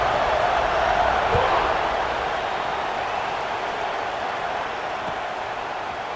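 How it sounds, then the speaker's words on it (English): A stadium crowd at an LSU vs Clemson football game buzzes as a broad, steady roar that fades slightly over time, with faint commentary underneath. "this crowd is buzzing after that last score"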